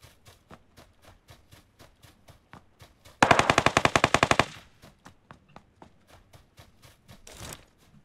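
Gunfire in the video game PUBG Lite: a dense burst of rapid automatic shots over about a second, surrounded by sparse single cracks and a short later volley, heard from a distance.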